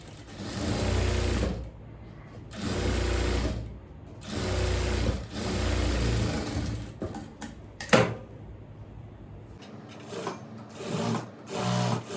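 A sewing machine runs close and loud while stitching the front neck of an A-line kurti, in several sustained bursts of about two seconds with short pauses, followed by a few softer mechanical clicks.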